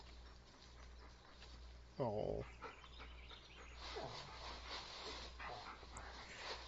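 Kenzie, a dog in the horror game Blair Witch, gives a brief high whimpering yelp at close range, followed by soft whines amid a low steady hum, with a voice speaking faintly over it.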